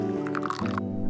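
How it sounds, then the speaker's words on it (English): Hot water pours over ground coffee in a pour-over filter, a brief wet squishing trickle lasting about a second over a steady tonal background. "put the filter in, put the coffee, and then pour some hot water and wait"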